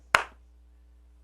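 A single sharp hand clap rings out once, close and crisp, followed by a short fading tail in an otherwise quiet room.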